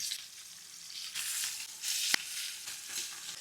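Chicken sizzles steadily as it fries in a pan, with a soft crackle close by and one sharp tap near the middle.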